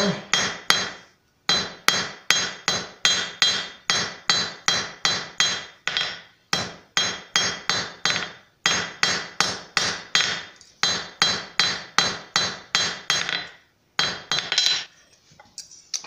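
A hammer strikes a copper cross again and again to forge and thin it, ringing metallic blows in quick, even bursts separated by short pauses, loud and close.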